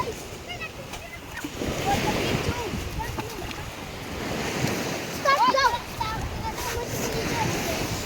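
Ocean surf rolls and washes steadily with wind buffeting the microphone, while voices talk intermittently over the waves.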